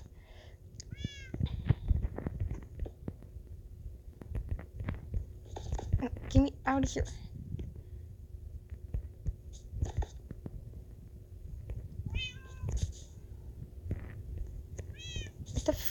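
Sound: cat meowing

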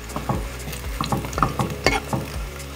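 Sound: garlic frying in a pan

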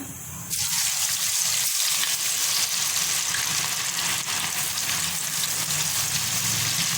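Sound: deep frying ivy gourd (dondakaya) pieces in hot oil

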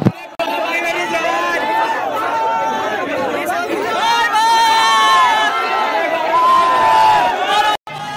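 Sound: large chattering crowd of fans around a YouTuber

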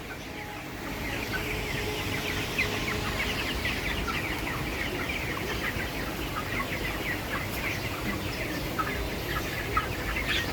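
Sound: broiler chickens clucking

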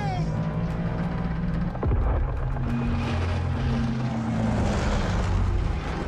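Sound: airplane engine in Call of Duty Vanguard, a video game

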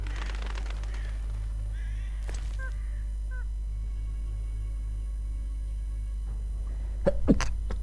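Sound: sneeze

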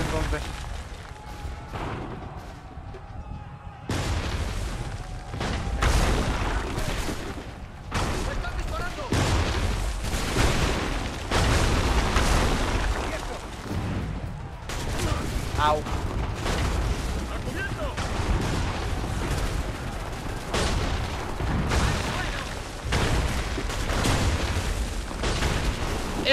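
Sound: gunfire and explosions in trench battle, Assassin's Creed III video game

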